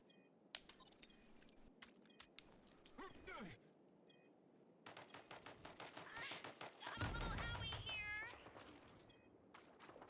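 Gunfire from behind and in front during a bomb-defusal round of a shooter video game, sharp bursts of shots in rapid succession with a meow-like game sound and a busy, cluttered mix.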